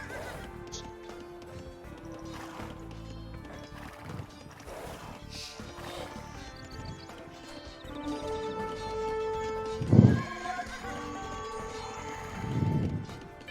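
Horses neighing and whinnying inside a busy strategy game, short bursts rising over a dense bed of unit clatter, game music and effects, with a louder whinny near the end.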